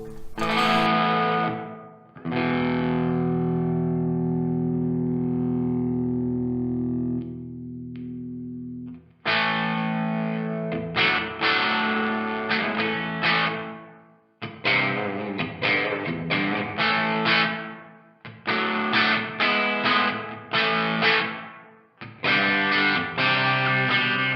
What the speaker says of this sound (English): Right, let's dial the gain back a bit. I want to see how this cleans up